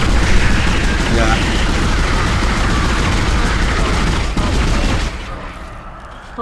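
Continuous heavy gunfire in Dead Space, a loud sustained roar of shots and blasts that cuts off abruptly near the end.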